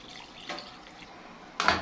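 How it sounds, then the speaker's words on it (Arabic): Water is poured into a pot of frying rice, a soft splash building to a sharp, loud hissing burst near the end, heard up close with no talking. "بعد كده هننزل بالمية ونظبط المية"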